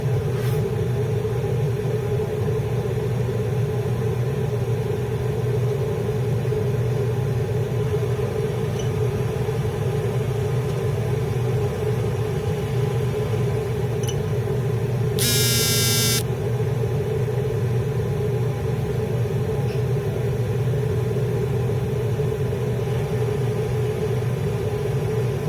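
Continuous steady hum and whir from a Rec Tec 680 pellet grill, its fan running while the auger turns, an even mechanical drone with a brief higher-pitched whine near the middle.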